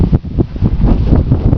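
Strong wind after a windstorm buffets the microphone outdoors, loud continuous rumbling gusts with fluttering bursts throughout.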